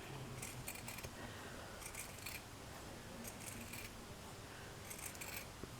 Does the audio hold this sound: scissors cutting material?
yes